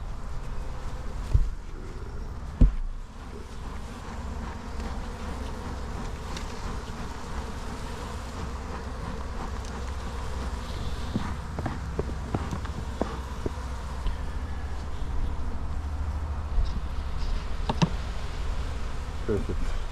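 Honey bees buzz steadily around an open hive after a swarm has landed, a dense close droning with occasional louder passes near the microphone and a few handling knocks.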